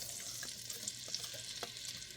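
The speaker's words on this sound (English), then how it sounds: "Just a low sizzle, okay? Just a little low." A soft, low sizzle of oil crackling in a pan, with faint light pops throughout; quiet and close.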